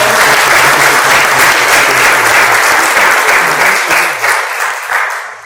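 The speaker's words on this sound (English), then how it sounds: "Can we have a big round of applause?" At a Dubai book event with author Neelima Dalmia Adhar, an audience claps loudly and densely, then fades out over the last second.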